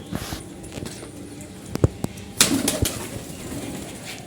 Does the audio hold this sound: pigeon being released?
yes